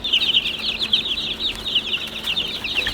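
A group of baby chicks kept under night lights cheeps continuously, with high, rapid peeps overlapping in a steady chorus close by, with no talk.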